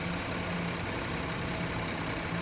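A 2000 Toyota 3.0 VVT engine with a misfire idles quietly in a steady low drone, heard faintly and continuously with no voices.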